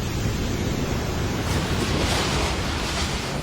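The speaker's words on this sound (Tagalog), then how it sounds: "Sa Aurora hinampas ng malalakas na alon ang isang resort sa Dipaculao" Strong storm waves crash against a resort in Dipaculao, Aurora, a loud, continuous roaring surge with gusty wind noise that swells midway through and carries on steadily to the end, with no voices.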